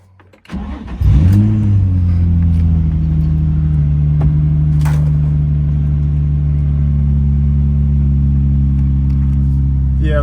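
A Nissan VQ35DE V6 in an Infiniti G35 / Nissan 350Z cranks briefly and fires, flaring up before settling into a loud, steady, close idle hum with a deep even drone.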